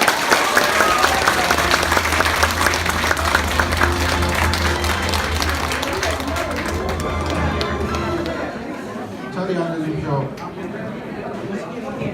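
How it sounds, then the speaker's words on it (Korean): An audience at an elementary school alumni reunion claps warmly in sustained, loud applause that gradually thins out, with crowd chatter and voices speaking over it. "뜨거운 박수 부탁드리겠습니다"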